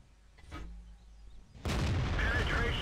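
A T26E4 Super Pershing tank in World of Tanks struck by a tank shell: a quiet stretch with a brief thud, then a sudden loud impact boom that stays as a heavy sustained roar.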